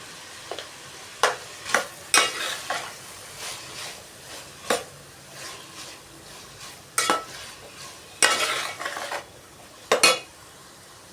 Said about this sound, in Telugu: బాగా ఫ్రై చేసుకుందాం